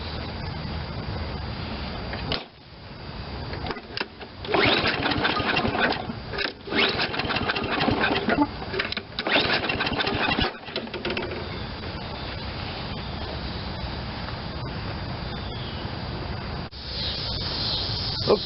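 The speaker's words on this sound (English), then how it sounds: "I just went for a start and it will not start" A Toro 22-inch Recycler lawn mower is tried from a cold start: a string of close, loud pull-cord cranks with rattling, sputtering bursts that never catch into a running engine, with brief pauses between pulls.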